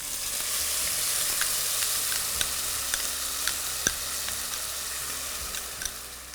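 Ginger garlic paste sizzles steadily with whole spices in a pot for chicken tikka masala, with a continuous close frying hiss and occasional small pops and stirring clicks.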